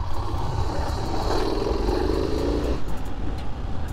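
A 1997 Yamaha XT600 big single-cylinder motorcycle rides up through the gears, its loud steady engine drone rising in pitch and dropping near the end as the next gear goes in, with heavy wind rumble.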